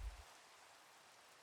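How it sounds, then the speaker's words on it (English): Rain falls in the Minecraft video game, a soft, even hiss of drops that holds faint and uniform after a brief low thump at the start, with no voices. "Okay, got the rain."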